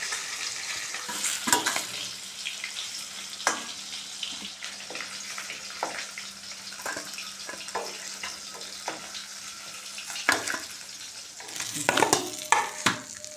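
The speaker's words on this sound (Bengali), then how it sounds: "ওই তেলে দিয়ে দিচ্ছি কালো জিরে দিয়ে দেবো পেঁয়াজ আদা রসুনের পেস্টটা খুব ভালো করে ভেজে নেব" Black cumin with an onion, ginger and garlic paste fries in oil in a kadai, a soft, steady sizzle broken by frequent clicks and scrapes of stirring, busier near the end.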